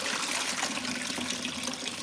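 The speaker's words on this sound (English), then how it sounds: "throw off the water and just rinse them with some regular water" Whiting fish are rinsed under a running kitchen tap, a steady, fairly quiet hiss of flowing water splashing without pause.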